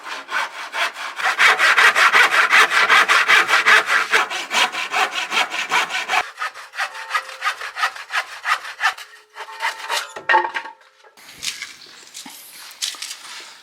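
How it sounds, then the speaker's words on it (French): Hand saw cutting through a wooden plank in steady back-and-forth strokes, loud and close for about six seconds, then slower, lighter strokes with pauses and a few knocks as the cut finishes. "je vais couper cette planche"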